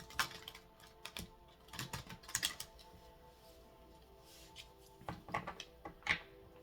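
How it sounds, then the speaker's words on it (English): Tarot cards shuffled by hand, clusters of quick soft riffling clicks in two bursts separated by a quieter pause, close and fairly faint. "So one more shuffle here before we cut."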